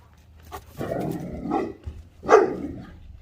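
A dog barking in a backyard garden, a few separate gruff barks and growly vocalizations spaced over a few seconds, fairly close.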